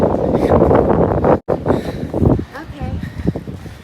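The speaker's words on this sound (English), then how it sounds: "Not even a hurricane anymore, but it's kind of windy." Strong gusts from post-tropical storm Lee buffet the microphone with a loud, continuous roar that briefly drops out and then returns, while people talk over the wind.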